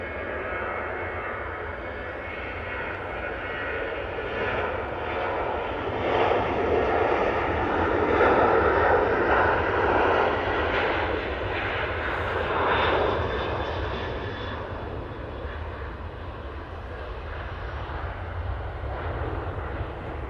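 Airliner departing Manchester Airport for Gdansk, a sustained distant jet engine roar that swells to a peak midway and then slowly fades, with no talking.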